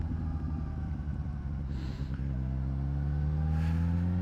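A 2012 Suzuki GSR750A motorcycle pulls hard on the highway, its engine note rising through the revs, dropping briefly at a gear change near two seconds, then climbing again with a strong, steady tone under wind noise.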